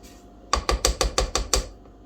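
An electric mixer blending tea cake ingredients gives a quick burst of about seven sharp, evenly spaced clattering knocks over a faint hum, then falls quiet.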